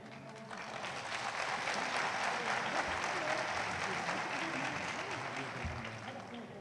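An audience at a political speech in Taiz, Yemen applauds in a sustained, fairly distant roar of many hands clapping, steady throughout with a faint crowd murmur beneath.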